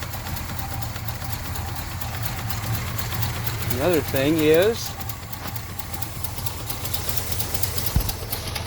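A rough, uneven, shaking engine idle with a split exhaust manifold chugs steadily in the background while a person speaks briefly over it.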